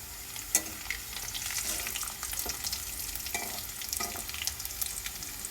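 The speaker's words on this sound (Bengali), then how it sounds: "দারচিনি, এলাচ, গোলমরিচ, লবঙ্গ দিয়ে দিলাম তেলের মধ্যে।" Cinnamon, cardamom, pepper and cloves frying in oil give off a close, soft crackle and sizzle, with spoon stirs and scrapes scattered throughout.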